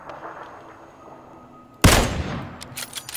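A sudden loud burst of gunfire in PlayerUnknown's Battlegrounds after a quiet stretch, with a heavy crack followed by a decaying rumble and a few further shots.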